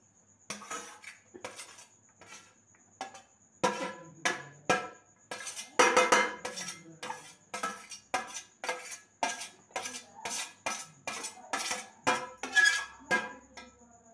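Okra fry being stirred in a pan at home, a utensil clinking and scraping against the metal in a steady run of sharp, close taps that grow busier midway, with no talking.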